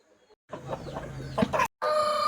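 A hen clucks close by in several short, choppy bursts after a quiet start, broken by a sharp gap before a louder, sustained stretch at the end.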